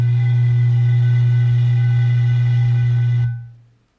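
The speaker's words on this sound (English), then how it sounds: "So I tried it out with a whiskey bottle," Whiskey bottle giving a steady, hollow low hum with faint overtones, unprocessed and alone, holding loud for about three seconds before fading quickly away.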